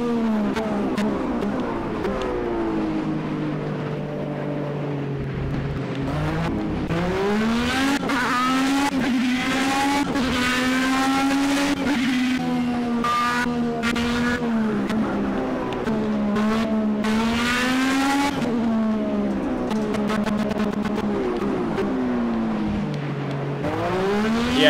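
A Formula B open-wheel race car in the racing game Project CARS, its engine whining loudly and continuously as it climbs and drops through the gears, with occasional tire noise through the corners and no talking.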